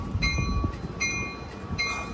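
An eastbound Amtrak Capital Corridor passenger train, led by locomotive 8304, pulls out of Richmond station in wind, with steady rumbling movement and repeated high tonal squeals or whistles throughout.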